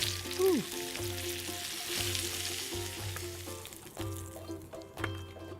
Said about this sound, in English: So it's best to do this in batches depending on how much oxtail you're going to be browning